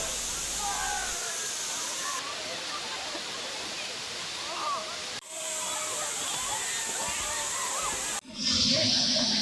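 Savatkada waterfall in the Konkan during the monsoon, a loud continuous roar of falling water with steady rushing wash, briefly cut off and resuming, crowded with tourists.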